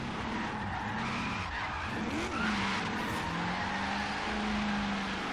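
A V8-swapped Nissan 370Z built for offroad driving in Forza Horizon 3 roars steadily with tire skidding and rising engine pitch, loud and close, continuous throughout without talk.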